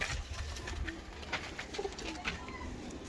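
A pet pigeon in a breeder's loft coos softly in a low, throaty murmur against a faint, steady background, with no talking.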